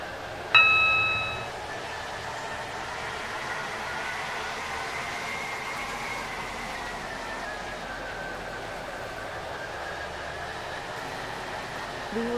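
Waterline passenger train bound for Airport Terminal 2 running between stations, heard from inside as a quiet, steady rumble and hum, with a short bright chime near the start.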